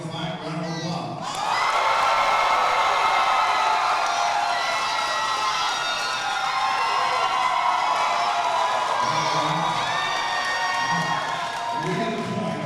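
A fight-night crowd at an Elevate Fighting Championship event breaks into loud cheering, whooping and applause after a brief lull, sustaining a dense roar for several seconds while an announcer's voice carries over it.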